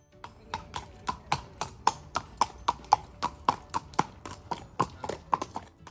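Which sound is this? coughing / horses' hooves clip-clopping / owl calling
horses' hooves clip-clopping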